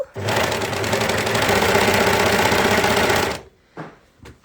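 Sewing machine stitching a dress with a tulle overlay, a fast steady mechanical rattle running loud and close for about three seconds, then stopping abruptly, followed by a few small clicks.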